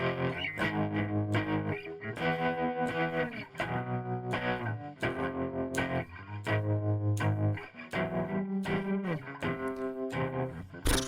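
A distorted electric guitar with chorus-like effects plays the chords of Boulevard of Broken Dreams, loud and close, in a steady strummed rhythm with brief pauses between chord changes.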